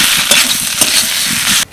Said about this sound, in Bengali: আলুটা একটু নাড়াচাড়া করে নিলাম